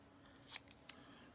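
Paper-craft scissors make two quick, crisp snips about a third of a second apart, trimming a small angle on a card embellishment. The cuts are close and clear over a quiet room.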